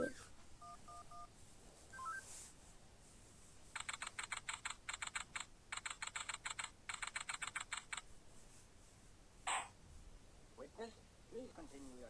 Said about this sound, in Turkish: Cep telefonu. Arayalım bakalım.